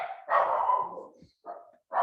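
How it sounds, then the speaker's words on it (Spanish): A pet dog barks at home in three separate bursts: a long, loud opening bark followed by two shorter ones after brief gaps, close to the microphone and with no talk over it. "ahí está mi perro, que yo les dije que iba a ladrar como ahorita"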